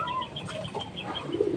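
Racing pigeons set loose for a training flight give a brief flurry of flapping wings and soft coos against outdoor background noise, close by and moderately loud.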